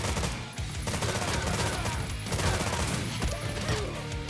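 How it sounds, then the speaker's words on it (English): Rapid gunfire from a weapon in the game Terminator 2D: No Fate, loud repeated shots in quick bursts layered over busy game action and music, with no speech. "the gunshots are actually really satisfying out of this gun"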